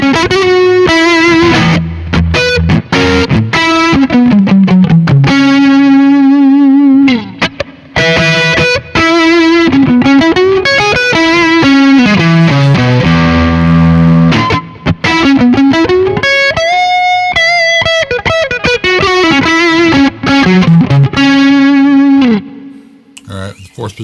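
Fender Ultra Stratocaster on its neck pickup, a bright, singing electric guitar played loud and close in fast melodic runs and bends with light overdrive and chorus-like shimmer, continuous with no talking.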